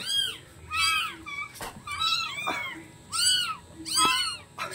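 Four young kittens meow repeatedly, with high, thin cries overlapping in quick succession at close range and little else in the background.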